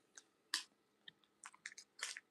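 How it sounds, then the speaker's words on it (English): Close, crisp crunching bites and chewing of imported fruit and nut candy, a series of irregular sharp crunches separated by short quiet gaps, heard alone without talk. "excuse me for munching."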